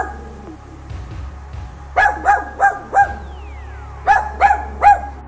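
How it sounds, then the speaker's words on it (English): A small dachshund barks in two quick bursts, first four sharp yaps and then three more after a short pause, close and clear over faint background hum. "I'm officially being bullied by a cute wiener dog"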